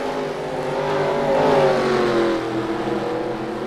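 Engines of several stock cars racing around the track at South Boston in a Busch Grand National racing video game drone and rise, swelling to a peak midway, then easing off as the pack moves on.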